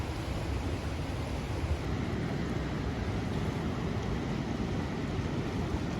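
Fast, high water of the Blackstone River rushes past mill ruins in a steady, dense broadband roar, close and unbroken, with no voices.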